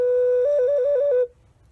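A single clear whistle imitating a hunter's whistle: a steady sustained tone that wavers up and down slightly in pitch for just over a second before stopping abruptly, loud and close with no talking.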